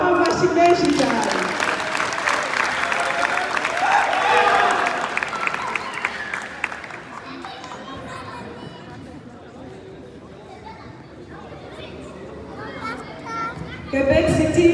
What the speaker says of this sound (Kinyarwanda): mubaha amashyi menshi cyane.